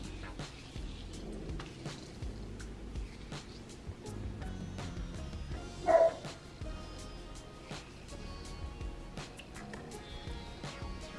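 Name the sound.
dog barking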